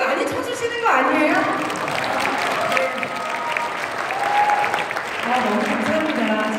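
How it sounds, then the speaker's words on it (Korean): An audience at a business rally in a hall claps steadily and fairly loudly. The applause runs under a speaker's voice and fills the room from start to finish. "너무 박수를 많이 쳐주시는 거 아니에요?"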